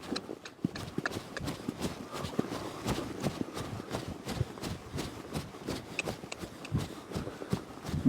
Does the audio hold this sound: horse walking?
yes